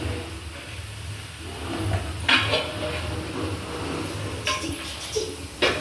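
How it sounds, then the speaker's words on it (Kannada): Metallic clanks and scrapes of a pressure cooker lid being handled and closed, a few sharp knocks against a steady kitchen background. "ಕುಕ್ಕರ್ ಲಿಡ್ನ ಕ್ಲೋಸ್ ಮಾಡಿ"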